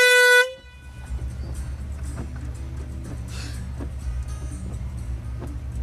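Car horn blown behind a vehicle at a fast-food drive-thru: one loud, steady blast that cuts off abruptly, followed by engine idle and low background noise.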